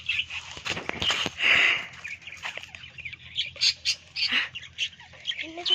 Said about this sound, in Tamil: இப்போ வந்து இதில் 5 பேர்ட்ஸ் இருக்குது